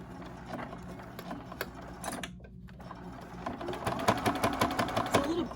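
Sewing machine stitching a zip pouch of cork and regular fabric, a rapid mechanical whirring chatter in short bursts that steadies into a continuous run near the end, close and fairly loud.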